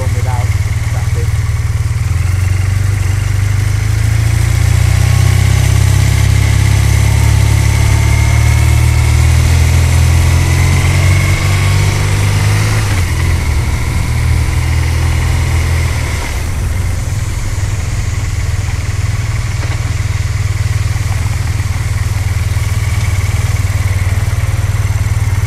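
A BMW R 12 S roadster motorcycle engine drones loud and close while riding on a rural road, a steady low hum that shifts pitch as the revs change and then settles. A rider talks over it.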